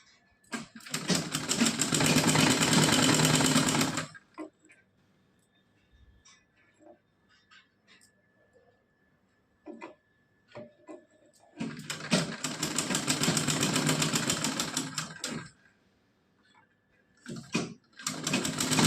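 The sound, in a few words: sewing machine stitching a small doll dress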